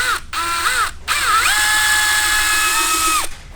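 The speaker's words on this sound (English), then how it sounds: "So I added a piece of tubing to the drill, which fits perfect right in the clutch" A power drill boring into a go-kart clutch, fitted with a tube to guide a dull bit; a loud, close, whining drill tone that bends in pitch, stops briefly twice, then holds steady before cutting off.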